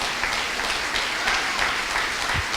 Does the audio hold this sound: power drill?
no